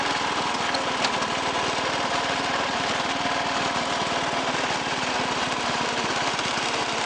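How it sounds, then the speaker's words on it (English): A 1986 Toro 11-32 lawn tractor's engine runs steadily nearby, a constant loud, even drone with a fast underlying pulse and no speech. "now that it's running good"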